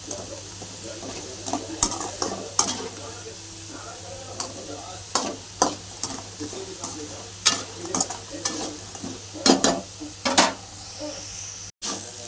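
Peanuts being stir-fried in a pan with crisp fried potatoes for sabudana khichdi, a steady low sizzle broken by a series of sharp spatula scrapes and clinks against the pan, close and with no talking.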